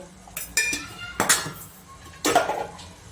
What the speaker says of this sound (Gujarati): આપણે બધું મિક્સ કરી લઈએ